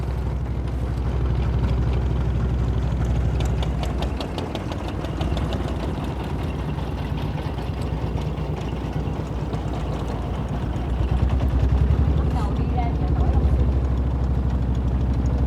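Boat engines chug steadily at the Long Xuyen floating market before dawn, a dense low idling throb from several nearby craft that holds for the whole stretch and swells slightly near the end.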